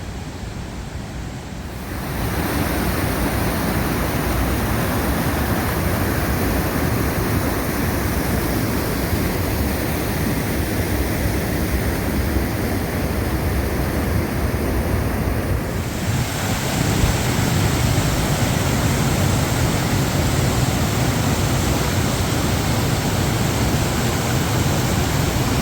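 A waterfall in Ontario rushes over rocks in the fall as a loud, continuous broadband roar that holds steady and unbroken throughout, with wind buffeting the microphone.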